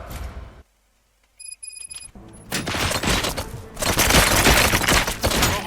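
Bursts of rapid gunfire crackle loudly in the video game Robocop: Rogue City, with a few thin electronic tones in a quieter gap before the shooting resumes more densely.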